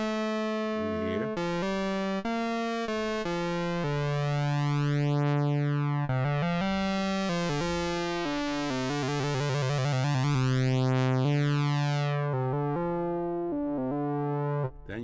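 Eurorack modular synth with two oscillators playing a sustained, harmonically rich lead tone, the notes stepping and sliding in pitch with detuned beating, loud and continuous with no talking.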